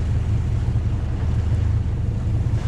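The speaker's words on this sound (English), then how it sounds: "And it's got really windy." Low, steady wind rumble blusters against the microphone aboard a sailing boat at sea, a constant deep roar without breaks, close and fairly loud.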